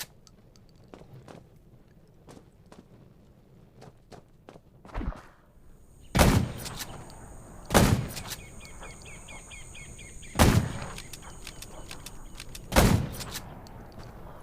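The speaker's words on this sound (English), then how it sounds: "Gunshots will attract more zombies." Four loud, sharp gunshots ring out at spaced intervals in the zombie survival game Undawn, following quieter footsteps and faint ambient clicks.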